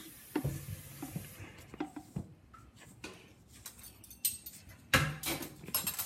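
Chocolate chip cookie dough is mixed by hand in a bowl, with uneven scrapes, soft clanks and taps from the utensil against the side, some strokes louder than others.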